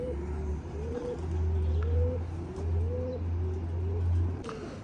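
Pigeons coo on a rooftop loft, giving a steady run of repeated low, throaty coos close by, with a few light chirps and faint background noise.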